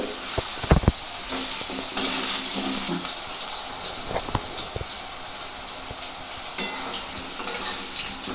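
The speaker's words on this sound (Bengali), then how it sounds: "কিছুক্ষণ এইভাবে আমি নাড়াচাড়া করে এটা লাল লাল করে আলুগুলো ভেজে নেব" Potato pieces coated in salt and turmeric sizzle steadily in hot oil in a pan, with occasional sharp pops and stirring scrapes over a constant frying hiss.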